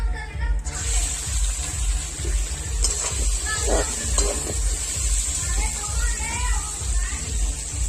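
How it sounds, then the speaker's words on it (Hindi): Chicken frying in mustard oil in a kadhai over an open flame, a loud continuous sizzle and crackle with occasional stirring clinks, and a voice talking briefly in the background. "अब तल लेंगे हम चिकन को।"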